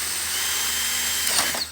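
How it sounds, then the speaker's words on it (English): A power drill drives a screw into a black plastic crate, giving a short steady whirring buzz up close, followed by a brief grinding catch as the screw bites and the drill jumps. "When you screw in, especially if you have it on the drill setting, it wants to jump away from you."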